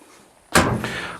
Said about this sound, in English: Fortress doors, they're metal, half doors, got a little handle inside, pull back,